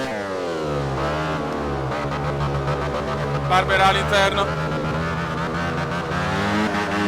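Racing motorcycle engine in the video game MotoGP 2013 during a wet race, a steady high whine that rises and falls with gear changes, heard under a commentator's voice.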